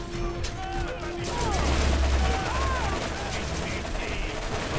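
A turret fires continuously in Borderlands, a loud, dense stream of rapid gunfire layered with overlapping game effects, and a voice talks over it.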